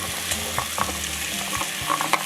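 Vegetables sizzling in melted butter in a pan, a soft continuous fry with occasional stirring knocks and scrapes, close and fairly quiet.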